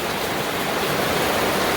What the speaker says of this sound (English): not quite sure if you can get the gist of the heaviness of this storm